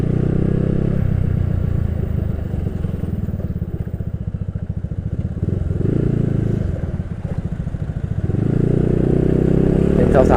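A customized Yamaha Nouvo motorcycle rolls along slowly, its low engine putter and rumble steady and close, easing off briefly midway before building again.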